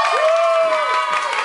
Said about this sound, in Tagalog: malalaman natin kung sino magaling sa pamamagitan ng palakpak